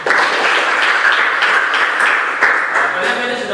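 Classroom group of students clapping together during a lesson, a loud dense burst of applause sustained for a few seconds.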